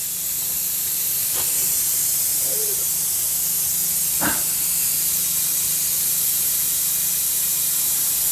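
A steady hiss of an oil extractor tool drawing oil out of the torque converter of a Mercedes-Benz B200 W245 CVT transmission, constant throughout, with a couple of brief faint knocks and no talk.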